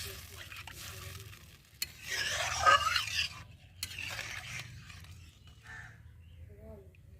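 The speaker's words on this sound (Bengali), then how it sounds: "এখন খুন্তি দিয়ে নেড়ে দেবো।" A metal spatula stirring a watery omelette curry with potatoes and cauliflower in a pan, giving soft scraping and a gentle sizzle that swells in the middle, heard close and fairly quiet.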